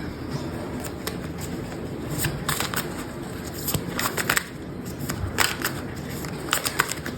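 Tarot cards shuffled and handled during a reading, giving soft papery riffles and flicks in bursts over several seconds, close and fairly quiet, with no talking.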